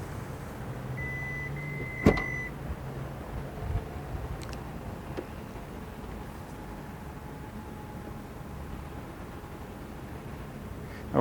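Remote-operated power windows on a 2020 Hyundai Palisade Ultimate and a Toyota, heard from close by: a sharp click, then a faint, steady motor whir that runs for several seconds in a quiet setting.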